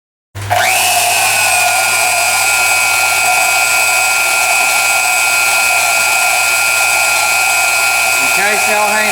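A handheld power tool whirs up and runs at a steady high pitch while cutting off a bolt on a hopper bottom trailer's brake hardware, loud and close, winding down briefly near the end.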